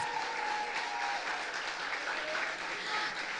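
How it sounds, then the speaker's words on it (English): Applause for a parliamentary candidate at a political rally, a dense, steady wash of crowd clapping held at an even level throughout, with faint voices mixed in. "Give your next member of parliament a round of applause."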